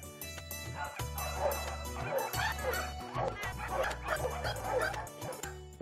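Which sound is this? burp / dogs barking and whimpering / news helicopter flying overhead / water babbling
dogs barking and whimpering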